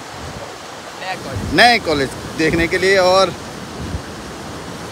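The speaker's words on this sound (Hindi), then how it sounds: "देखो बिल्कुल सर हवा ज़्यादा तेज है ना" Strong wind blowing outdoors, a steady rushing roar buffeting the microphone throughout, with people talking over it in the middle.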